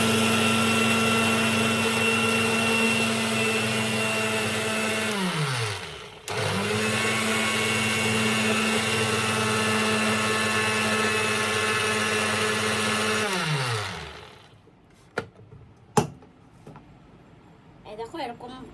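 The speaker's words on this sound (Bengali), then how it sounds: "এবার আমি এটাকে মিক্সার মেশিনে ঘুরিয়ে নেব" A kitchen mixer grinder grinds dry rice into powder for rice laddu with a loud, steady high whine. It runs in two long bursts that each wind down, followed by a few sharp clatters as the jar is handled.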